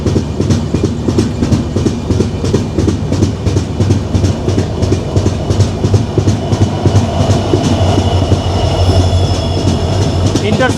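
Alipurduar Intercity train passing at night at Sivok station during a crossing, loud close rhythmic clickety-clack of wheels over rail joints with a heavy rumble and faint squeal, continuing steadily.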